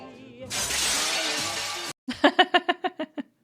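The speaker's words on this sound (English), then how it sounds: "Love the delayed glass shatter." Glass shatters in a crime scene from the 1997 film L.A. Confidential: a long, loud crashing burst of breaking glass, a brief silence, then a run of sharp, ringing clinks as shards fall and bounce in quick succession.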